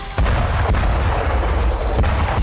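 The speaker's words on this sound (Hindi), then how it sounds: "अचानक जमीन पर होता है बड़ा धमाका और फिर उठता है धुएं का गुबार" A loud, rumbling bomb blast on the ground in the Russia-Ukraine war, booming low-end and continuous roaring noise, harsh and close.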